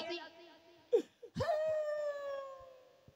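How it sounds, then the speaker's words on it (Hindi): Someone cries with a drawn-out, wavering wail after a few short sobbing catches, quiet and somewhat distant, part of a staged comic drama. "ये किसी की रोने की आवाज आ रही है"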